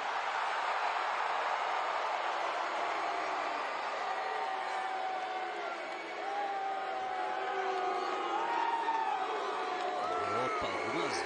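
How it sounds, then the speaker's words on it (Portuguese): Wrestling arena crowd at a WWE SmackDown event in Memphis, Tennessee, a loud continuous roar of boos mixed with applause and shouts throughout, with a commentator's voice faintly under it. "duas vaias para o Roman Reigns. E meio lógico, muitos aplausos para ele."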